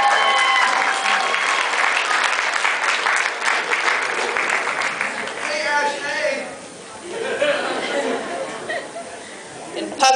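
Convention audience clapping for the winning skit at an anime event's awards ceremony, loud at first, then thinning with a dip midway before picking up again, with voices chattering through it.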